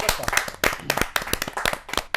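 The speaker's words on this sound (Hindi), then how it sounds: "जहाँ जोरदार तालियों के साथ हम" At a Hindi kavi sammelan poetry gathering, the audience claps briskly and loudly. The sharp, uneven bursts run throughout the short stretch, with no talking.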